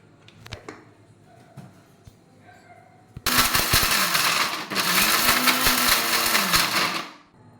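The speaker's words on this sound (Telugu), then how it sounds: "కొబ్బరి వేసుకొని మరొకసారి గ్రైండ్ చేసుకుందాం." Mixer grinder grinding coconut with chilli powder and salt, a loud, steady whirring burst that starts abruptly after a few seconds of quiet, briefly dips and then resumes before winding down near the end.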